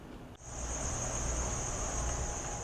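Crickets at a cricket farm raised for human food chirp in a constant high, shrill drone over low room hum, starting abruptly after a brief click and holding steady and loud to the end.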